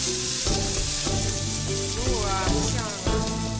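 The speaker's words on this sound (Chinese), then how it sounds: "还下锅用油煎" Slices of bobo, a steamed bread cut into small triangles, pan-fry in hot oil with a loud, continuous sizzle and crackle, punctuated by a few soft stirring knocks.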